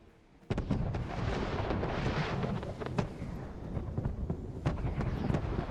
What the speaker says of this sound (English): After appreciating the fireworks for a second